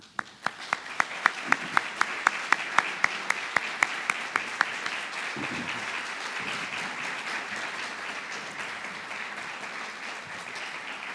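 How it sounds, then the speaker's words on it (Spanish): Audience applause at a formal tribute ceremony, starting with a few distinct claps that quickly swell into steady, sustained clapping from a sizeable crowd, lasting about ten seconds with faint murmuring underneath. "el doctor Alejandro Carrillo Castro, a quienes les agradeceré, me obsequien un aplauso."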